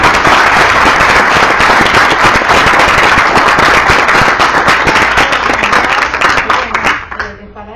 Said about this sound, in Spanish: Un aplauso a los chicos, a las chicas.